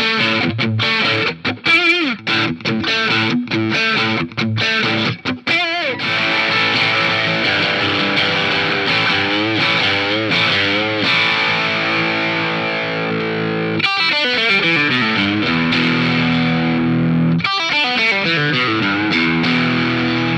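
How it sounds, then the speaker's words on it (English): A 2020 Fender signature Mustang electric guitar, natural finish, played loud through distortion, with choppy strummed chords at first and then long sustained, wavering chords ringing alone. "But now let's go ahead and switch over to some distortion."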